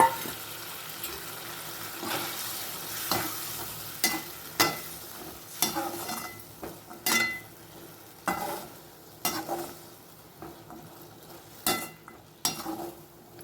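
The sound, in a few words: bean gravy boiling and being stirred in pan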